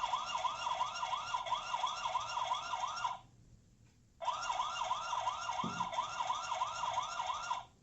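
A Xiaovv Q12 security camera's loud electronic alarm siren repeats in rapid up-and-down sweeps, cuts out for about a second, then resumes until it stops abruptly.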